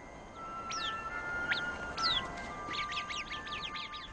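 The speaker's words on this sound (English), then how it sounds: "This little creature, known as the Arabian bird, manages to survive in this difficult environment." Arabian birds in a hot, dry desert give faint, sharp chirps and tweets, starting as a few scattered calls and building into a quick cluster of overlapping notes above a steady hiss.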